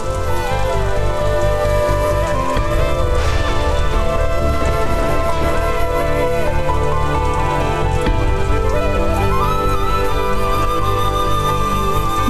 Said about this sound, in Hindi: फिर बारिश।